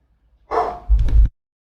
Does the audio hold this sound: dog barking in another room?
yes